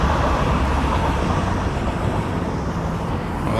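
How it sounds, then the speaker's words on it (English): A train in Fuengirola on the Costa del Sol pulls away from its end-of-line stop, a loud, continuous low rumble with steady broadband roar and no talking. "there's the train just nipping off towards Fuengirola"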